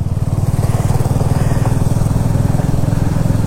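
Four motorcycles ride together on a mountain road in North Sikkim, a loud steady engine drone close to the mic without a break.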